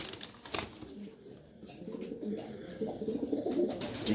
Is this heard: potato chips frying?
no